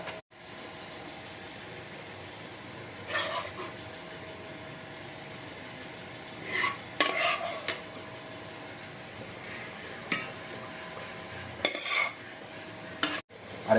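Rice, dal and spices being stirred together in a cooking pot for bhoger khichuri, with scattered scraping clinks of a spoon against metal every few seconds over a quiet steady background hum.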